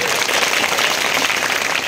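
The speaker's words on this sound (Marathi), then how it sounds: "एकदा खरं या माझ्या बहिणींसाठी जोरदार टाळ्या वाजवा" Loud, continuous clapping from a kirtan audience, dense and even for the whole brief stretch with no gaps.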